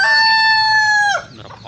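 A rooster on a free-range village chicken farm crows once, loud and close: a long sustained call that breaks off abruptly after about a second, leaving faint farmyard background.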